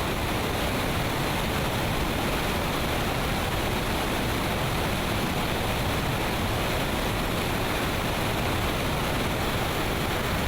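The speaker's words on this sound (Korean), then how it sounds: "무섭게 쏟아지는 폭포수가 위험할 법도 한데 그들에겐 그저 익숙한 일터일 뿐입니다." Powerful waterfall pouring over rocks on the Mekong River, where fishermen cast nets: a dense, steady roar that fills the scene from start to finish, loud and unbroken, with no voices.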